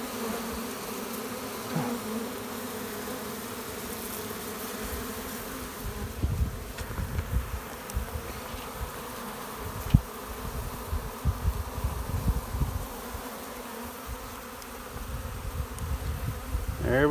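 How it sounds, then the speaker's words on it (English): Honey bees buzz in a dense, continuous drone during a hive removal from a chimney, with handling thumps and rustles throughout. "We got bees scattering."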